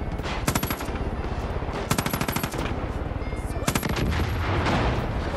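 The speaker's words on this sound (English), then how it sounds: "Who's shooting me?" Gunfire in the Far Cry 5 video game: loud, rapid automatic bursts in several volleys of closely spaced shots, with a dense game soundscape underneath.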